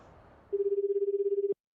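A phone call rings out in the video game 428: Shibuya Scramble, a single steady, pulsing electronic ring burst lasting about a second that is loud and clear and ends abruptly.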